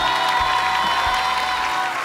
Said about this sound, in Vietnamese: Hãy cho họ những tràng pháo tay thật lớn để động viên tinh thần cho cả ba gia đình